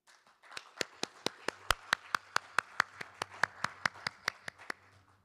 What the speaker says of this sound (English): let's have him with a warm round of applause